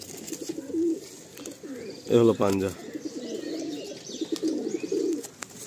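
Madrasi tournament pigeons in a loft give soft, repeated rolling coos, rising and fading in a steady rhythm, with someone talking nearby and one fuller coo standing out midway.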